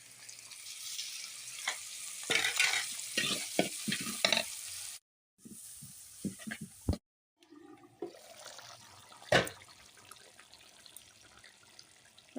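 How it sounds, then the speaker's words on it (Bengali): Onions fry in a pan while being stirred, with a close, steady sizzle broken by bursts of scraping strokes and two short silent gaps. "এখন পেঁয়াজগুলো ভেজে নিচ্ছি, নাড়াচাড়া দিয়ে নিচ্ছি"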